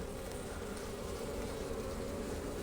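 Honeybees buzz at an open beehive during an October supersedure queen check, a dense steady drone close by that runs unbroken and alone, with no talk.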